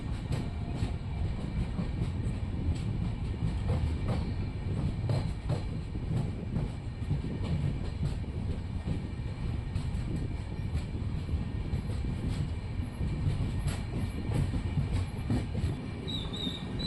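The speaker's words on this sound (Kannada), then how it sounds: "ಈಗ ಚಿಕ್ಕಜಾಜೂರಿಂದ ಹೊರಟಿದೆ ನಮ್ಮ ಟ್ರೈನು" A passenger train on the Chitradurga–Mysore route, departing Chikkajajur, rolls along steadily with a constant low rumble and rattling wheels, loud and close throughout, with occasional clicks from the track.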